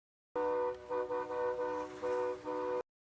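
A car horn honks in a few uneven bursts over roughly two and a half seconds, a steady tooting tone broken by short gaps, fairly close and alone.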